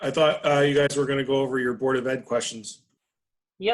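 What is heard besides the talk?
No distinct noise like a dog, phone or traffic.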